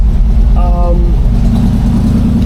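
Carbureted 1974 Ford F-100 pickup truck engine just started and idling, a loud, steady low rumble close by, with a voice speaking briefly over it.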